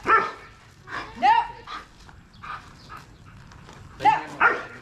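An aggressive dog barks outdoors in a rural jungle setting in the Philippines, several sharp, loud barks and yelps in bursts, with a person shouting over it.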